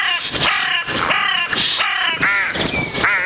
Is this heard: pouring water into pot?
no